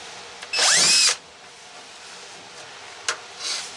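A power drill backs Phillips screws out of a 1958 Chevrolet Biscayne quarter window in one short, close, whining burst, followed by quiet handling and a faint click.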